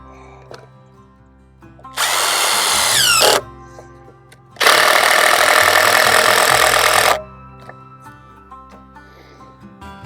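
A power drill drives 6-inch log screws into timber in two loud bursts, the first slowing as it seats and the second longer and steady, with quiet gaps around them.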